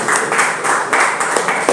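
A church congregation applauds during a sermon, with close, uneven hand claps swelling in short waves for under two seconds.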